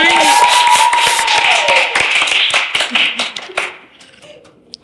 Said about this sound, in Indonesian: Beri tepuk tangan, ini dia Iksan.